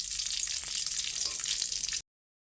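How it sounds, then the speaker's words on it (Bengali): Dried red chili and cumin seeds sizzle in hot oil in a pan after fried pointed gourd has been lifted out, a steady close crackling hiss with scattered pops, then abrupt silence. "এবার আমি এখানে একটা শুকনো লঙ্কা আর একটু জিরে ফোড়ন"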